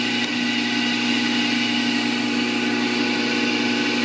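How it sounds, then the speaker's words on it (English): Small blowers run on a large gasifier producing three-phase power. They give a loud, steady mechanical hum and whir with a strong low drone, unchanging throughout and close by, with no speech. "And I'll turn on the little blowers"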